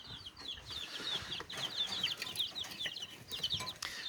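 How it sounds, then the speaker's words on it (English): High-pitched peeping of eleven Kelso game fowl chicks, a continuous chorus of chirps close by with faint rustling in the background. "But I have 11 baby Kelso chicks in here."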